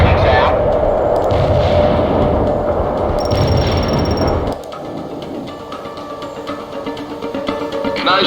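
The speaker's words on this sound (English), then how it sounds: "Heavy strike inbound." A heavy artillery strike in World in Conflict lands as loud, dense rumbling blasts and crackling impacts that fill the first half, then drop to a lower, scattered roar with distant pops.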